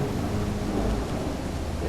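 Loud, dense rain pours continuously with a deep rumble of thunder rolling underneath, a storm ambience in the video game Call of the Elder Gods, heard near the start of the first chapter.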